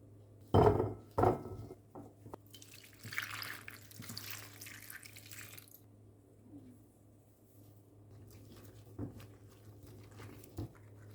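Running water rinses cauliflower after a salt soak, starting with a couple of close splashes, then a steady wash from a tap that fades into light drips and small handling sounds.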